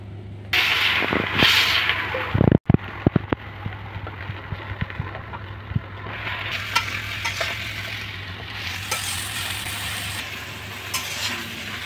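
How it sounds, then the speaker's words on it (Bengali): Taro leaves (kochu shak) being stirred and fried in a pan, with a steady close sizzle and a few sharp utensil scrapes early on, continuing without speech. "এখন কচু শাক রান্না করা হবে বন্ধুরা।"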